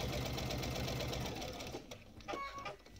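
A sewing machine runs fast and close, stitching a seam across a quilt block, its steady mechanical whir holding for most of the moment before slowing and stopping with a few small clicks.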